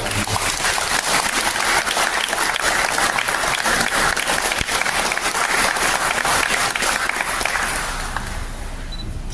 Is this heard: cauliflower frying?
no